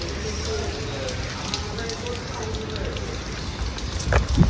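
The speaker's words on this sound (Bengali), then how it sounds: "ভালো বৃষ্টি পড়ছে।" Steady, dense rain pours down without letup, a broad hiss of water hitting surfaces close by, with a brief louder splash near the end.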